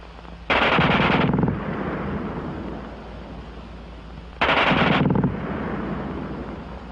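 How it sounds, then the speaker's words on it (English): German machine gun firing rapidly in a wartime setting, heard as two loud, close bursts of very fast automatic fire, each about a second long, over a steady rumbling background with no talking. "the German gun fires faster than anything you've run into before"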